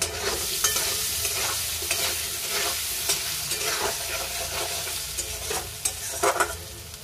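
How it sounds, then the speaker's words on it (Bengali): Potatoes fry in a pan with a little turmeric and salt, a steady close sizzle broken by repeated scraping stirs of a spatula, with no talking. "এর মধ্যে অল্প করে হলুদ আর অল্প করে লবণ দিয়ে আলুটাকে ভালো করে লাল লাল করে ভেজে নেব"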